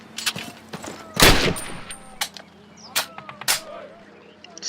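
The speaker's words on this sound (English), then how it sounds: "Fire a full magazine." Gunfire in the Call of Duty video game as a full magazine is fired: a handful of sharp, loud, separate shots and cracks spread unevenly over a few seconds, with faint game sounds between them.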